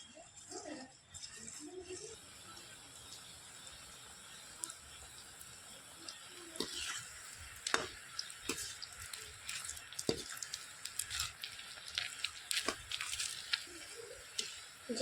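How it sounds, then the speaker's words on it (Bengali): Chushi pitha fry in well-heated oil in a kadai, a soft bubbling crackle with scattered sharp pops and spits that grows busier and denser over time. "এই চুষি পিঠেগুলো ভাজার জন্য কিন্তু তেলটা খুব ভালো করে গরম করতে হবে।"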